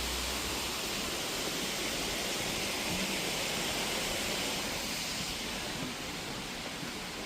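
Artificial waterfall at Jangyusa temple pouring steadily, a dense, constant rushing roar that stays close and loud with no break throughout.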